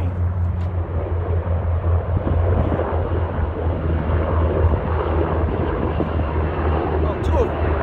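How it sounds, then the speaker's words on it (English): A military helicopter drones overhead with a low, steady throbbing rumble, mixed with wind noise. "This is a damn military helicopter flying right over me."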